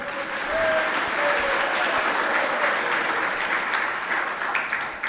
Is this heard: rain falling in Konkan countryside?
no